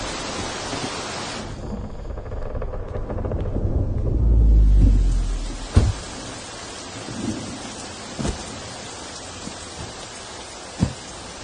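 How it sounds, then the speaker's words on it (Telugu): Heavy rain falls steadily as a dense broadband wash, with a low rumbling swell near the middle and a few sharp knocks or drips standing out later. "వర్షం గట్టిగా పడుతుందా?"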